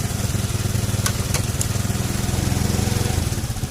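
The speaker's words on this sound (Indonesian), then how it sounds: "Ini posisinya jadi motor itu hidup sendiri." A fuel-injected Honda Beat motorcycle engine idles up close in a steady, rapid putter, with a few sharp clicks or taps partway through and no speech.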